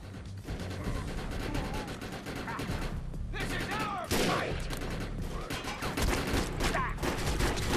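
Pistol gunfire in the shooter game Defiance, rapid bursts of shots layered over dense in-game combat noise, with someone talking over the action.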